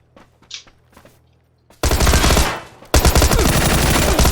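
Tommy gun fired in a video game: after a few faint clicks and taps, two long, loud automatic bursts ring out with a short pause between them.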